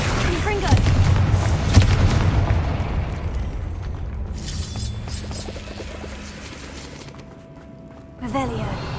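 A Confringo blasting spell goes off in Hogwarts Legacy with a heavy booming explosion that rumbles and slowly fades over several seconds, followed by a fresh burst near the end, with a voice present.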